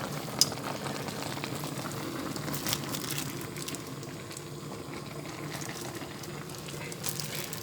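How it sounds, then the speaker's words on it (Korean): Shiitake, oyster and pine mushrooms go into a bubbling shabu-shabu hot pot, giving steady simmering and soft sizzling with faint stirring knocks, fairly quiet and continuous. "표고도 넣고 느타리도 넣고 송이도 넣고 이렇게"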